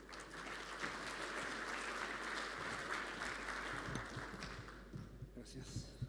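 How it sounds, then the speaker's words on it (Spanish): An audience at a panel session on autonomous mining welcomes a new speaker with sustained clapping that thins out and breaks into scattered claps near the end. "Lo recibimos también con un aplauso"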